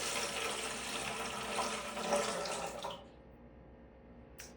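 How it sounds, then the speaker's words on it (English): Filtered water runs steadily from a tap into a container for a few seconds, then shuts off, leaving a quiet room with a faint click. "you're going to start out with filtered water."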